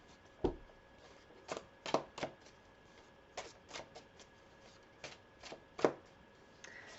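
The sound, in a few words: tarot cards being shuffled and drawn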